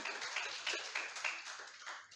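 A church congregation at an online worship service claps enthusiastically for God: quiet, distant rapid clapping with a few sharper bursts, carrying on steadily for a couple of seconds.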